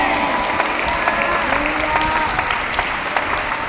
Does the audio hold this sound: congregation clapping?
yes